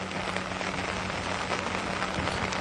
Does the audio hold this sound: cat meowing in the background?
no